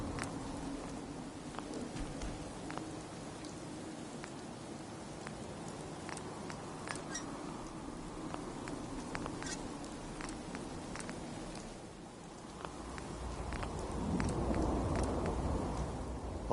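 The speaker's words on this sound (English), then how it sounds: "Hope this rain lets up soon." Rainfall in the video game Fallout 4 patters steadily at a low level with scattered drops and taps, swelling slightly toward the end, with no talking.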